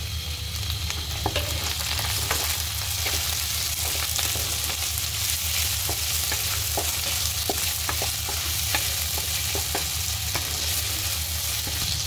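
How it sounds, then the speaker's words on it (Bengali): Shrimp tossed into browned onions in a frying pan, sizzling steadily and close for about twelve seconds, with faint scattered clicks of stirring and no voices. "পেঁয়াজ ভালো হয়ে গেছে, এখন চিংড়ি মাছ দিয়ে দেবো।"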